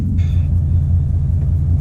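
A 2017 Ford Mustang GT with a manual transmission idles after starting, a steady, deep, loud engine rumble close by, with a brief high whine near the start.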